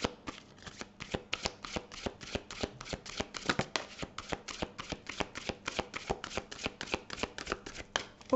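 Tarot cards are riffled and shuffled by hand in a fast, continuous run of crisp flicking taps, close and steady throughout with no voices.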